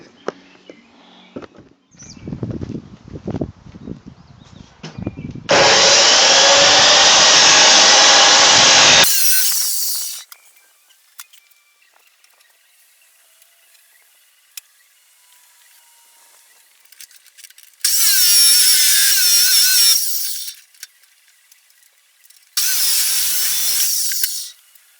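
An electric cutting saw slices through metal in a workshop, with three loud sustained bursts of harsh, high grinding noise separated by quieter spells of handling and faint clatter.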